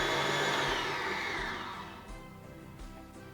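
An electric whisk beats eggs into a margarine and sugar mixture for a vanilla cake, a loud steady motor whir that gradually fades and then stops, leaving faint clicks.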